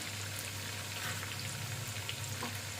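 A small green chili sizzles in hot oil over high heat while a chicken karahi is cooked, a steady dense frying crackle that holds at an even level throughout.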